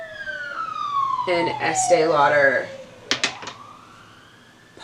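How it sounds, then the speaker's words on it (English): A wailing emergency siren sweeps down in pitch while a person speaks over it, followed by a few sharp clicks and the siren fading away. "pardon the sirens"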